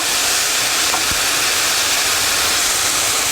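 Minced ginger and lots of garlic sautéing with softened onions in a pan for chicken curry, giving a loud, steady, unbroken sizzle and hiss throughout with no one speaking.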